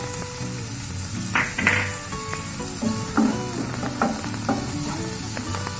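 Onion frying in hot oil in a kadhai over a gas flame, a steady bright sizzle with intermittent scraping and tapping of a stirring spoon, close and alone without speech.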